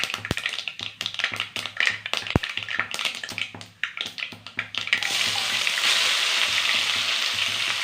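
Mustard seeds pop and splutter in hot oil with sharp irregular crackles and a couple of loud clicks, then a steady loud sizzle takes over.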